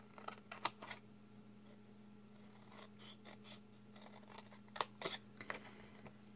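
Scissors cutting paper along fold lines beside a large rectangle while making a mini surprise box, a few close, quiet snips and crisp paper sounds coming in short bursts over a low steady hum.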